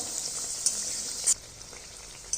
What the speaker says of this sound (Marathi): लालसर होईपर्यंत आपण तळून घेणार आहोत